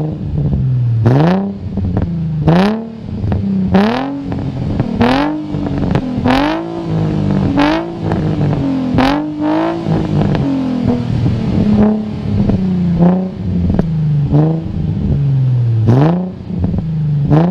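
A Nissan 350Z fitted with a Megan Racing stainless steel part revs repeatedly, with a dozen or so sharp throttle blips rising and falling in quick succession, loud and close with no talk.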